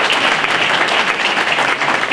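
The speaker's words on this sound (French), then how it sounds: "On va les applaudir." An audience at a small theatre play claps together at the close of the show, a loud, continuous, dense patter of many hands lasting the whole moment, with no voices on top.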